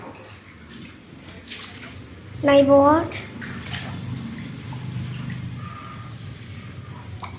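Floodwater pours into a house with a continuous rushing, splashing wash, and a person speaks briefly over the running water.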